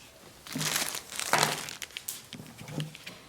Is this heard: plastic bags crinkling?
yes